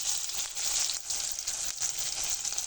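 A spice paste of chopped onion, green chili, cumin-garlic paste, salt, turmeric and red chili powder fries in a pan, giving a steady close-up sizzle with gentle fluctuations and brief dips, with no voices.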